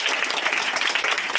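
A short burst of steady, close hand clapping applauds a child indoors, dense and even throughout with no voices over it.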